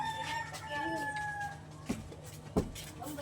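A rooster crows at a home birthday gathering, its drawn-out harmonic call carrying clearly over steady low background hum, followed by a couple of sharp knocks.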